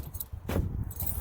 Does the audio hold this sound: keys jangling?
yes